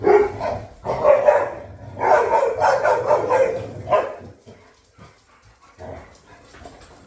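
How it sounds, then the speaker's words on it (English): Several dogs bark excitedly in loud, overlapping bursts, pausing briefly before a final round of barking. "These dogs are going crazy."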